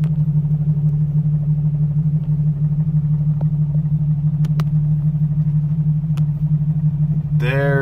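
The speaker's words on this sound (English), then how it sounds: "There's the bus, guys." A Bluebird bus near Area 51 gives a deep steady engine rumble that holds throughout, fairly loud and close, with a few faint clicks on top and no talking.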